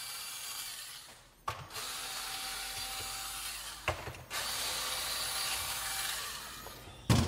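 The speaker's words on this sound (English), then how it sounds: "All you gotta do is unscrew these four screws right here" A screwdriver or small power tool backs out screws from the mag handle of a Onewheel GT, in several short mechanical bursts broken by clicks and brief pauses, close and fairly quiet.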